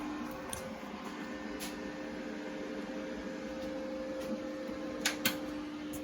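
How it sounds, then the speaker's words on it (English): A welder runs during a spaceframe build, giving a faint, steady electrical hum with a few light clicks and ticks, and no talk. "Welder, noisy."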